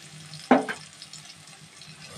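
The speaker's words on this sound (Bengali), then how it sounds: "এই মশলাটাকে খুব ভালো করে কিন্তু কষিয়ে নেব।" Spice paste for a prawn dish fries in oil, a soft continuous sizzle with one sharp burst of spatter and scraping as it is stirred and cooked down, close and brief, without voices.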